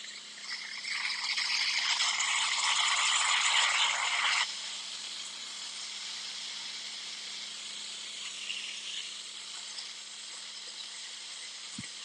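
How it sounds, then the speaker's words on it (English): A handheld garment steamer hisses loudly and closely while steaming artificial flowers, a broad steady rush for about four seconds that then drops to a softer continuous hiss with a low hum underneath. "So we're just going to steam our whole pile real fast"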